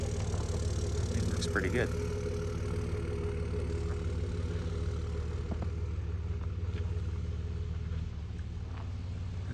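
A 2005 Dodge Cummins diesel truck rumbles at a low, steady idle throughout, with a person talking briefly over it.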